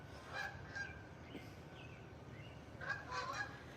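Geese honk outdoors at a moderate distance, two bursts of overlapping calls over steady background noise, with no talking during them.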